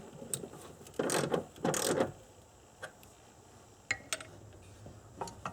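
Bolts being tightened by hand ratchet while installing a power antenna on a Nissan Maxima, a few short clicking bursts, faint and close, with quiet pauses between.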